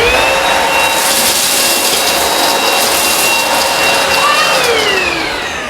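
Eureka Rapid Clean Pro cordless vacuum sucking up chip crumbs from a hard floor, a loud steady motor roar with rattling debris throughout, easing slightly at the end.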